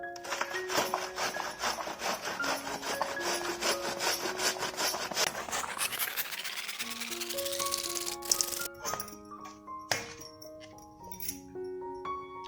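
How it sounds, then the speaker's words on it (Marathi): Washed cabbage is grated by hand, with rapid rhythmic rasping strokes close up for about eight seconds, then scattered lighter scrapes and clinks. "इथे मी कोबी स्वच्छ धुवून घेतलेला आहे तो आता आपल्याला किसून घ्यायचा आहे"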